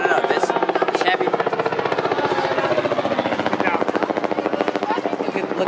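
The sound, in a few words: helicopter flying overhead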